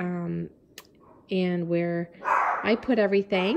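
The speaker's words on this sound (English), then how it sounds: "the barking in the background" A dog barks nearby in several short bursts, with a person speaking between and over the barks indoors.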